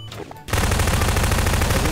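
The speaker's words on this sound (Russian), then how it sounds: "Ионные бомбы в действии." Ion bombs exploding in Garry's Mod: after a short quiet opening a dense, loud, continuous roar of rapid crackling blasts sets in and holds steady without a break.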